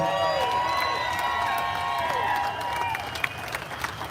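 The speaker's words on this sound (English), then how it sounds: "Let's make that round of applause for them." An audience applauds veterans at a gathering, sustained clapping and crowd noise mixed with whistling tones and scattered cheers, fairly loud and steady before tapering.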